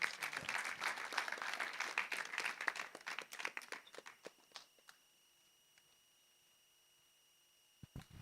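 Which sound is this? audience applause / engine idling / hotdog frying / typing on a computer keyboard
audience applause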